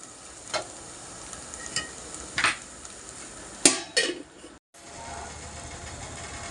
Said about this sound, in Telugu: వంకాయ నువ్వుల పొడితో ఫ్రై చేశాను